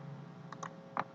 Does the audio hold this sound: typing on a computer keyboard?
yes